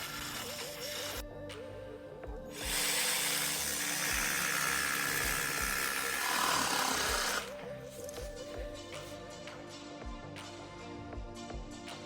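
A power jigsaw buzzes loudly for several seconds in a harsh, sustained cut through a click vinyl floor panel, with quieter rhythmic tool rattling before and after.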